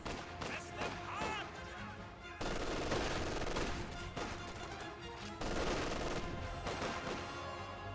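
Rapid gunfire and machine-gun bursts crackle in a Company of Heroes 2 infantry battle, dense overlapping shots with heavier thumps, continuous and fairly loud under a commentator's voice.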